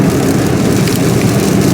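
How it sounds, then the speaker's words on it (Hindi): Heavy rain pours down steadily, a loud dense broadband wash with no pauses, likely heard from inside a moving vehicle, alone without any talk. "बारिश हो रही है भरमार"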